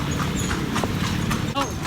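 Horse hooves clip-clop at a steady walking pace as a horse pulls a carriage, the rhythmic knocks close and clear under a continuous background of road and street noise.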